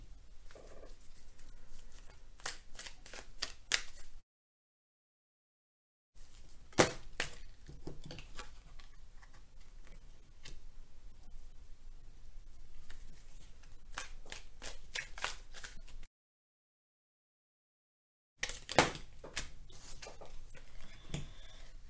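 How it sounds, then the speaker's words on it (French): Oracle cards being shuffled by hand during a tarot-style reading, repeated quick riffling bursts and soft card slaps, close and crisp, broken by two stretches of total silence. "On va demander des cartes à l'oracle Améthystolophe pour compléter ce tirage."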